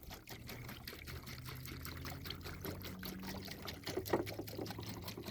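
Liquid pours straight from a jug into a plastic container during a Duracoat firearm finishing job, a steady close trickle and splash that continues throughout with a slight surge near the end.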